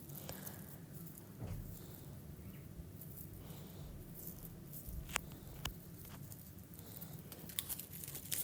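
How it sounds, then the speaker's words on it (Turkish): Raffia being wrapped around two cardboard rings, giving soft crinkling, rustling and light tapping close by, with occasional sharper rustles and no talking. "tüm iki kartonu da iki halkayı da e, rafyayla komple bu şekilde kaplayacağım"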